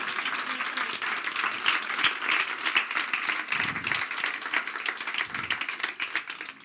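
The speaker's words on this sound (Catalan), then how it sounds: "Un fort aplaudiment per ma mare" Audience applause at the opening of a reading club season, dense continuous clapping throughout, moderately loud and steady with a few lower thumps.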